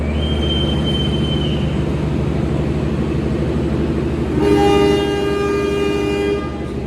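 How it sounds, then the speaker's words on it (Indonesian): The Madiun Jaya passenger train departs Purwokerto with a loud, steady rumble of rolling wagons and wheel squeal, while a horn sounds briefly near the start and again midway. "Madiun Jaya berangkat kembali dari Purwokerto."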